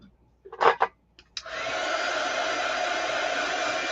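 A hair dryer switches on after a few brief handling knocks and then blows steadily and loudly, a constant close whooshing hum, while drying leather and lace craft pieces.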